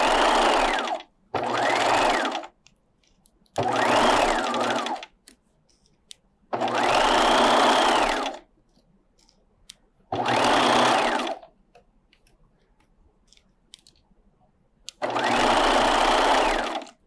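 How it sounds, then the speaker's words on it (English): A sewing machine runs in six loud, steady bursts of a few seconds each, separated by brief pauses, while back stitching and sewing down the vent of a pencil skirt. "I'm going to back stitch. And then sewing down"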